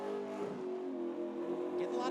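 A NASCAR race car engine at the 2009 All-Star Challenge holds steady at its rev limit with a sustained, buzzing, harmonic-rich drone, while a commentator talks over it.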